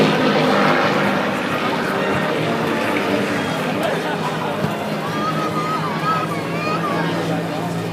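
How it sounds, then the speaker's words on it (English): Two solo aerobatic propeller planes dive at an air show over Chicago's lakefront, a loud sustained engine drone with a rising whine over crowd noise and an announcer speaking throughout. "our 2 solo aircraft diving down"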